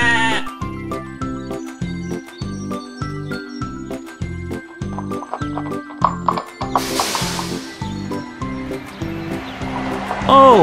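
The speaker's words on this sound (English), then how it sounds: "A sheep." Cartoon farm animals including a sheep bleat amid a horse's whinny, clip-clop hoofbeats and a jingle, all over bouncy, steady children's cartoon music.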